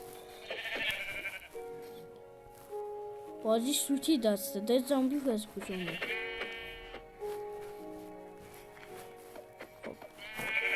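Sheep in the Minecraft video game bleat in short repeated calls while a player talks over them, with game music playing underneath.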